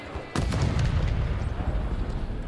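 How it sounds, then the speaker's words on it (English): Semtex and stun grenade detonating together against a Trophy System in Call of Duty, a sudden heavy boom followed by a rumbling low tail that lingers to the end, loud and close with no talk. "it was a combination of like a Simtex and a stun both hit the trophy"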